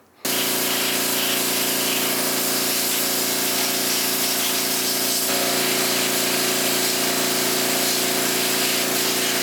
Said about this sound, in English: so I can really power wash it without having the carb or anything on, getting full of water